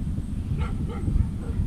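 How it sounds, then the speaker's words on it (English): Dogs near a little league baseball field bark and yip in a couple of short bursts, fairly distant and partly masked by steady outdoor wind and rumble. "Dogs around here always get fired up whenever I come out here."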